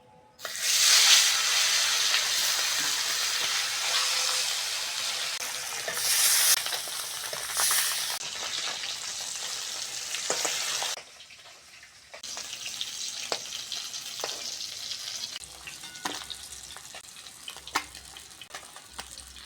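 Steady oily sizzling and crackling of foli fish frying in a pan, close and fairly loud, with a brief drop partway before the frying resumes.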